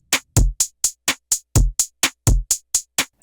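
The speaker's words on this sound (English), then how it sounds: "This is a real-time drum pattern" Programmed drum beat in Soundtrap with kick, snare and steady hi-hat hits in a brisk regular real-time pattern, loud and clean with no voices.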